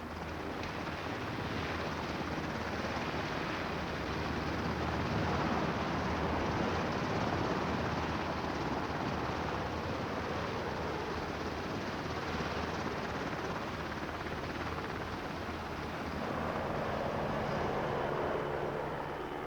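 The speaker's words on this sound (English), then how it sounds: "Here, US Black Hawk and Chinook helicopters are landing Dutch and American forces." US Black Hawk and Chinook helicopters land troops during a military exercise. Their broad, steady rotor and engine roar carries wind-blown noise and holds at an even level for the whole stretch, with no voices over it.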